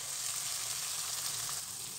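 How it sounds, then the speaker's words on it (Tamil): Ginger garlic paste sautés in a pan for dum biryani, a steady soft sizzle with even crackle that holds at a constant level throughout, with no voices. "இஞ்சி பூண்டு பேஸ்ட்டு கொஞ்சம் நல்லா வதங்கிக்கிட்டே இருக்குதோ"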